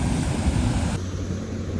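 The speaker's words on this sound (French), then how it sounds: "Voilà la cascade vue du bas." Steady broadband roar of a waterfall in New Zealand heard from below, loud and continuous, easing slightly partway through.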